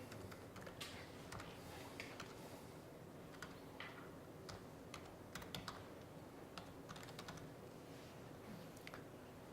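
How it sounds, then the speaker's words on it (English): A computer keyboard clicks steadily and quietly while a URL is typed during a SMART Board training demonstration, with irregular bursts of keystrokes over a low background hum. "notice that I'm just typing the URL I want it to go to"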